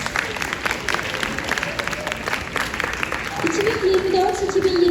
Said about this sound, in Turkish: Alkışlarınızla korumuzu sahneye davet ediyoruz.